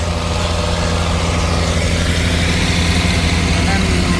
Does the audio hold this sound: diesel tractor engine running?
yes